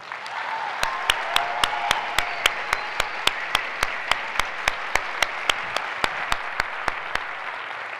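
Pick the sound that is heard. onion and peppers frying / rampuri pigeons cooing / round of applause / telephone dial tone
round of applause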